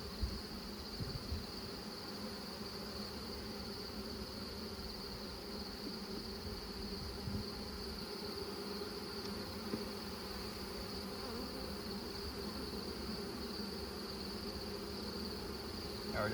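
Honey bees buzz around an open hive during beekeeping work, a dense, steady, soft drone that holds evenly throughout.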